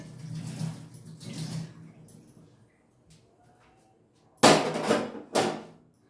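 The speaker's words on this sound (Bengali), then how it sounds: "এখনই এটাকে জলে ধুয়ে রাখবো" A hot bowl gets rinsed with water in a home kitchen. A voice talks at first, then after a quiet pause two loud, close gushes of splashing water follow each other.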